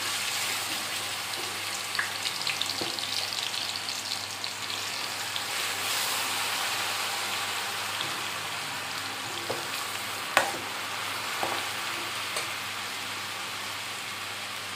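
Onion paste sizzles and fries steadily in hot oil for an Andhra-style kanagarasalu curry, a dense continuous crackle with a few sharper pops, heard up close with no talking.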